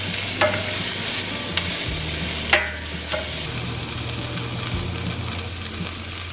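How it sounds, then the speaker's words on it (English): Spinach, green onion and red bell pepper sauté in a hot pan with a steady, fairly loud sizzle, while a utensil scrapes and knocks a few times and no one speaks. "So now we're just adding some roughly chopped spinach, and we're just gonna let this saute another couple minutes."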